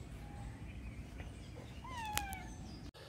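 A cat gives a single drawn-out meow near the end, close and clear over a faint background hum.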